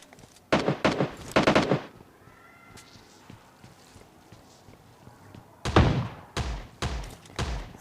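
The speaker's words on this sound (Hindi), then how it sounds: "मुझे फायरिंग की साउंड आती है सामने से" Gunfire in the video game PUBG Lite comes in two rapid bursts of sharp shots, several close cracks in quick succession, separated by a quieter stretch of faint ambient game sound.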